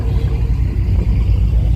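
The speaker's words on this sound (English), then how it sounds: "There go a truck with nitrous." A nitrous truck idles with a deep, steady, close rumble, loud and continuous with no voices.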